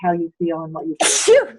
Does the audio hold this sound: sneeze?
yes